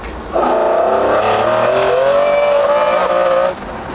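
A McLaren F1 sports car engine revs hard under acceleration, a loud, close, sustained rising howl lasting about three seconds before easing off.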